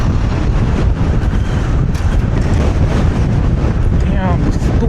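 Strong gusty wind buffets the microphone while riding a TRBK-M2 hyperscooter over a bridge in heavy fog, a loud, constant roaring rush with uneven surges and no letup.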